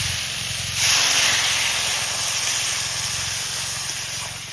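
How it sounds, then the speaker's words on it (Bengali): Water poured into a hot pan of frying vegetables bursts into a loud, close sizzling hiss that surges in about a second in and holds steady, fading only slightly toward the end. "এবার জল দিয়ে দিই"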